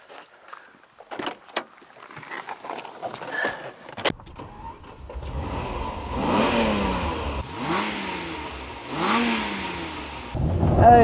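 A 1989 Ferrari Testarossa starts with clicks and whirs, then its engine revs up and accelerates in rising, surging pulls with gear changes, loud and close, growing stronger toward the end.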